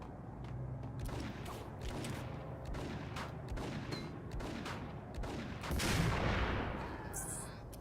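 Gunfire in a Remedy video game, a dense run of rapid shots and impacts over a constant busy game background, with a louder swell of blasts near the end.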